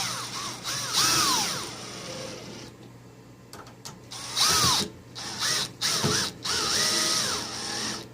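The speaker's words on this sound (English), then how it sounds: "You want to drive these screws in. Turn down the clutch." A power drill drives screws into a new locking doorknob being installed, with several short whirring bursts and pauses between them, close and fairly loud.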